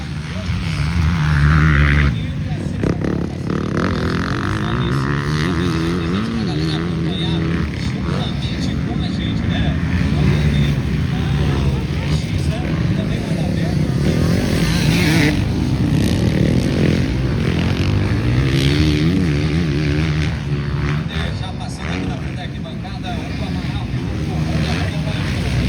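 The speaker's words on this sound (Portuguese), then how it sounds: "Acelera essa motoca nova aí, Juninho!" Motocross motorcycles race at a dirt track during a state championship round in Jaru, Rondônia, their engines droning and revving continuously at moderate distance while a commentator talks excitedly over them throughout.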